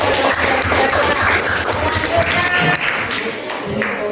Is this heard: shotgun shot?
no